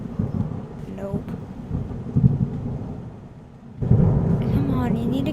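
Rain pours steadily while deep thunder rumbles and swells, fading briefly before a louder roll returns, with a voice and other sounds faintly mixed in.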